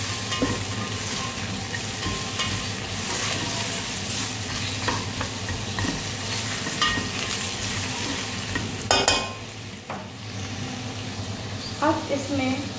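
Bottle gourd (loki) sabzi stir-frying in a little oil, with steady sizzle and spatula scraping against the pan, a few sharper clinks toward the end.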